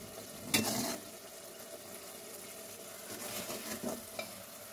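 Koi fish simmer in gravy in a pan with a soft, low sizzle, broken by a couple of brief scraping stirs.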